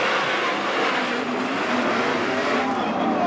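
Dirt track race cars roar off together at the green flag of a C-Main feature at a racing classic, a dense, steady wall of engine noise with no let-up.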